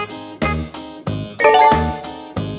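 A loud doorbell chimes nearby, several ringing ding-dong tones sounding one after another with a bright, lingering ring.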